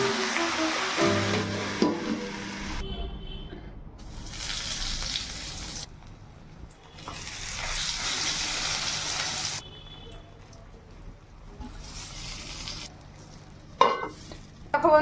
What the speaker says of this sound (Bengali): তো সেই মূলো শাক ভাজা করব